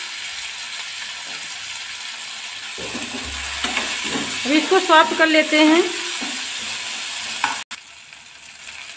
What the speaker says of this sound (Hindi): अब इसमें हम डालेंगे बारीक कटे हुए टमाटर और थोड़ी सी इसमें हल्दी डालेंगे